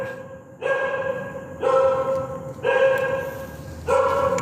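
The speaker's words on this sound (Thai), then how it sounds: "กูถามคนกูไม่ได้ถามหมา โอ้ยเห่าอยู่นั่นน่ะ" A dog barks four times in drawn-out, howling bursts, evenly spaced about a second apart, fairly close by with no talking.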